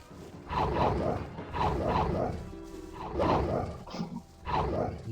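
Wolves attack in the video game Gothic 2, giving repeated snarling, growling bursts in a rough rhythm of about four attacks, loud and close, with no speech.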